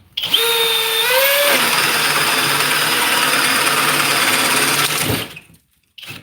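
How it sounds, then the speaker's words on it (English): A Milwaukee or Flex power drill spins up with a rising whine, then bores steadily and loudly for several seconds before cutting off abruptly. "there is no drill that can drill a hole this fast"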